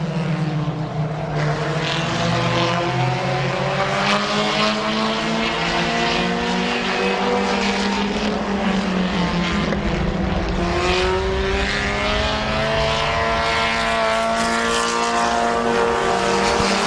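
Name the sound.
race cars racing at Midvale Speedway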